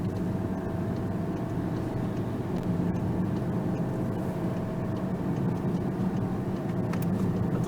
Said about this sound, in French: Le turbo répond très très bien